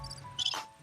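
A crickets-chirping sound effect played on a radio talk show: a steady, high, pulsing chirp that runs alone through the short moment, with a soft thump near the end.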